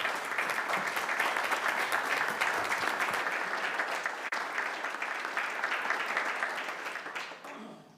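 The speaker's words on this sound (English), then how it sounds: "can we give a round of applause to the staff that have done this?" Sustained applause fills a city council meeting chamber, steady dense clapping from the audience for several seconds before tapering off at the end.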